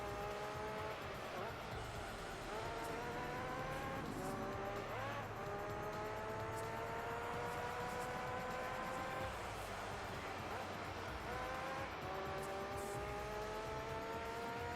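Race cars in Gran Turismo 3 roar around a track, engines whining through rising gear shifts with repeated upshifts, tire squeal and passing cars, continuous and loud, with a voice talking over them.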